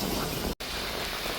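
Rain falls steadily during a windy storm in Antalya, a dense close hiss broken by a momentary cut in the middle.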